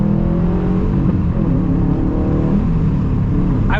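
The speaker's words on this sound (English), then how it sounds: "the intake noise on the STI definitely sounds a whole lot better" Engine intake roar from a Subaru WRX STI accelerating, a steady rising harmonic drone heard close from inside the cabin, continuous and loud.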